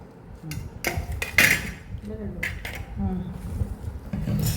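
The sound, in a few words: metal cooking pot being handled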